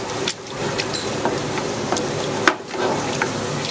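Roux for shrimp and grits being stirred over low heat, a soft continuous sizzle with gentle scraping strokes and one sharper clink partway through, close by and steady.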